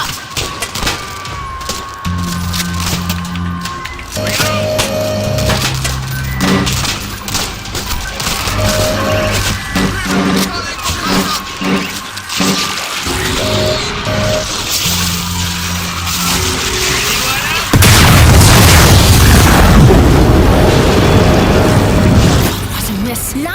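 Missile launcher firing and exploding in the World War Z zombie shooter, with loud booms and a heavy crashing blast near the end over continuous game music and effects, voices speaking between the shots.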